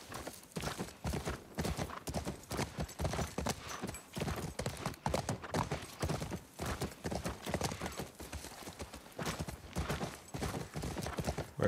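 Horse hooves clip-clop steadily and close in The Last of Us Part I video game, a continuous rapid rhythm of hoof strikes running throughout with faint voices underneath.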